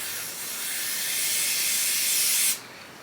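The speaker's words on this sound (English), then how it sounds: "you're gonna shake this up and spray it around the rim." An aerosol spray can hisses steadily around the rim of a glass for a gel wax martini candle, a close, continuous spray that stops abruptly near the end, leaving a fainter hiss.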